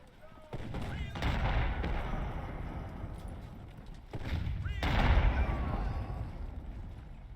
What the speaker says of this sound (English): Taking artillery fire from the fort itself.